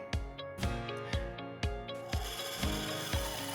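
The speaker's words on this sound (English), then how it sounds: "here I am just cutting out some supports" Wooden supports for a LARP kite shield being cut by hand, with a repeated rasping, sawing rhythm of about six firm strokes, close and steady with no talking.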